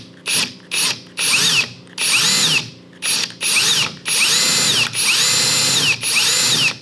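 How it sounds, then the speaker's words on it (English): A power drill runs in reverse to back out a stripped screw, in repeated short bursts of whirring with a rising and falling pitch, loud and close, separated by brief pauses and no talk. "So make sure you put your drill in reverse."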